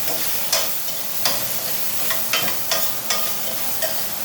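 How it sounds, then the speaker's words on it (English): Shrimp stir-frying in a hot Calphalon wok give a steady broadband sizzle, broken by sharp spatula scrapes and tosses every half second or so, close and fairly loud with no talking. "This is it's a Calphalon wok. You can use a saute pan. And I'm just going to let these shrimp cook for about"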